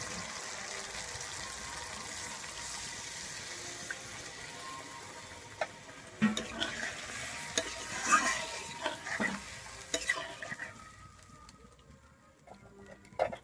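Water poured into frying spice paste for Bengali doi katla sets off a steady sizzle, followed by louder clattering stirring knocks before the sound fades.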